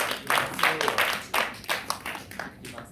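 A small church youth congregation claps at the end of a worship service, a loose irregular patter of hands in uneven bursts that tapers off.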